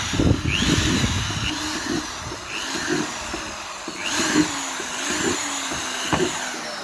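Power drill boring holes in a plastic planter for a vertical planter and wormery, heard as a continuous buzzing whine with short bursts and a fluctuating motor pitch, moderately close.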